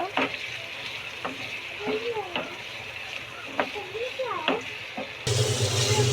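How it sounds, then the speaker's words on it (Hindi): Tomatoes sizzling in a hot pan for chicken curry, a steady close frying crackle with occasional stirring scrapes, while someone talks over it and the sizzle gets louder toward the end. "अब इसमें टमाटर मैंने डाल दी हूँ।"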